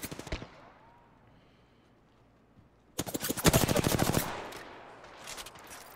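Gunfire in the video game Apex Legends: a short burst at the start, then quiet, then a dense, loud volley of rapid automatic shots from about three seconds on that trails into scattered reports.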